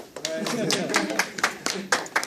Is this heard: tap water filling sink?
no